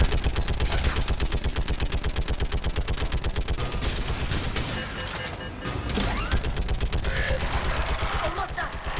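Rapid automatic gunfire from a firefight in Mass Effect 3, with sustained rattling bursts, brief pauses and crashes, loud and close throughout.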